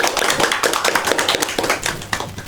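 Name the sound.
classroom clapping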